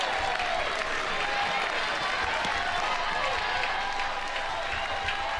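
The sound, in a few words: softball stadium crowd applauding and cheering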